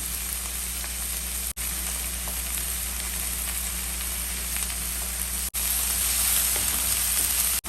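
Chopped onion, green chilli and curry leaves fry in hot oil, giving a steady, close hiss and sizzle broken by a few brief cuts, with no voices.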